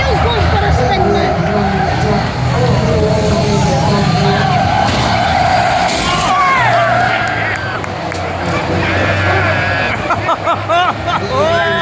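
A stock car spins out at a Lochgelly stock car race, its tires skidding loudly and repeatedly over a steady roar of racing engines, with crowd murmur and voices talking throughout.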